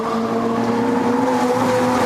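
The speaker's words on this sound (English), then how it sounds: "Farfus chasing what's left of Rob Huff's car" WTCC touring race cars race at Brno in 2008, with a loud, continuous engine drone whose pitch rises steadily as a car accelerates nearby.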